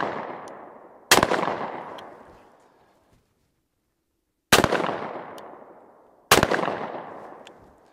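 A Browning Citori shotgun fires three loud, close blasts with uneven gaps, each sharp crack trailing off in a long outdoor echo, with a faint pop early on and near-silence between shots.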